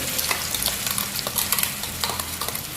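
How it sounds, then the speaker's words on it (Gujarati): Pasta gravy hits hot oil and sputters loudly, a dense close sizzle broken by quick stirring scrapes and pops with no talk. "ગ્રેવી એડ કરી દેવાની તેલમાં."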